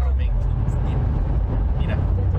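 A car passes close by with a loud, low engine roar and road rumble, while people chat over it.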